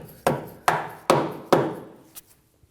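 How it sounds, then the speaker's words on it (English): A mallet taps a rear brake line bracket into place on a 2017-2024 Nissan Armada: four sharp, evenly spaced knocks, each ringing briefly, then a lighter final tap. "now we're gonna go ahead and hit it with a mallet"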